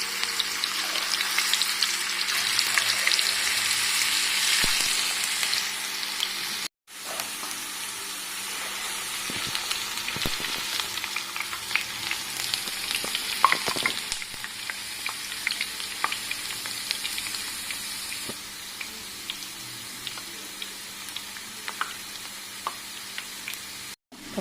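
Homemade potato chips, thin potato slices deep-frying in oil on a stove at medium heat, giving a loud, continuous bubbling sizzle that runs throughout, with one brief break partway through.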